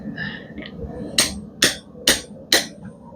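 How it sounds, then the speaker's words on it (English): Four sharp, ringing hammer blows strike a punch through hot steel at a blacksmith's forge, evenly spaced and loud, preceded by a brief softer scrape. "we're going to send this punch through it one more time"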